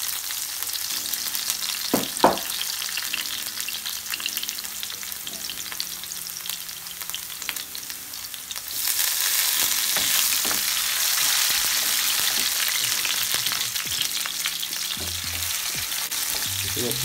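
Garlic and onion fry in a pot with a steady crackling sizzle and spoon knocks. The hiss swells noticeably louder and brighter halfway through, then continues evenly with intermittent stirring clatter.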